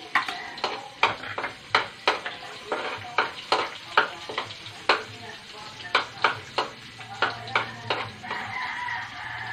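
Garlic and onion stir-fry in a pan while a spatula scrapes it in a steady rhythm of roughly one stroke per half second, each a sharp clack over a constant soft sizzle, close and fairly loud.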